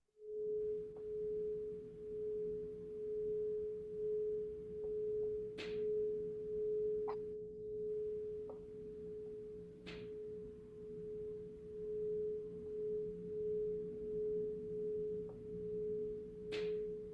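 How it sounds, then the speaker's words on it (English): A crystal singing bowl rings in a steady, pure, sustained tone that hums on without a break, with a few soft taps and clicks scattered over it. "let that sound of the crystal bowl wash over you"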